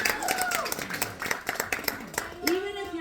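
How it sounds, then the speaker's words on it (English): A comedy club audience claps at a live stand-up show, a steady patter of many hands close by, while a host's voice talks over it. "go ahead and clap for"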